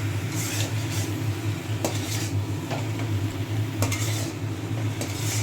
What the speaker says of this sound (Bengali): এঁচোড়টা আমি দিয়ে দিই, দিয়ে ভালো করে উপর নিচ করে ভালো করে কষিয়ে নেব।